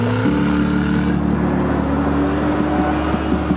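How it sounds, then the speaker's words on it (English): A Jaguar car engine roars steadily and loud at close range, its deep low drone rising in pitch and holding through the whole stretch with no talk over it. "First thing I noticed about the car is the kind of roar of it."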